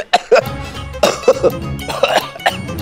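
Repeated throaty coughs in quick bursts, close and loud, several in a row without speech.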